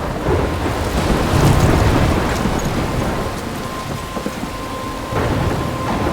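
Heavy storm rain pours steadily in the video game Life is Strange, with low thunder rumbling through the downpour. The sound is loud and continuous, with no voices.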